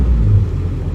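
Toyota MR2 Spyder with a swapped-in 2ZZ engine idling slightly high at about 1300 RPM, a brief, close, steady low rumble.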